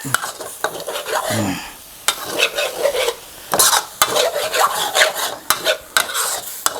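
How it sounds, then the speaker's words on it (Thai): Canned fish curry paste seasoned with fish sauce is stir-fried in a pan, a steady sizzle broken by repeated scraping strokes of a spatula and sharp clacks against the pan, close and fairly loud with no talking. "แล้วก็ผัดอีกทีนึงนะครับ"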